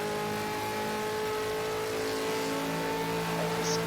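Race car engine in Project CARS 2 on the Monza GP circuit, V8 Supercar sound, a steady loud droning engine note with sustained tonal harmonics, rising slightly toward the end.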